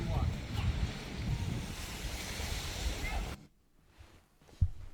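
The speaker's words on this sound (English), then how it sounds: "Had a nice few minutes just next to the ocean." Ocean surf rolls and hisses near a Cornwall beach, mixed with heavy wind buffeting the microphone, then drops away suddenly to quiet with a single low thump.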